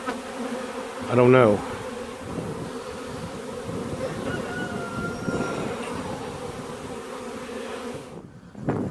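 Bees hum densely around a hive box, a constant close swarm drone with individual insects zipping past, and a voice speaks briefly near the end.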